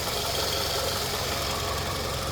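A 2005 Toyota Camry engine idling with the hood open, a steady, even, mid-pitched hum and light mechanical clatter heard close up, with no talking.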